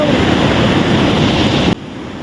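Magod Falls, a waterfall, gives a loud, broad, continuous rush of falling water that fills the space, then drops sharply to a quieter wash near the end.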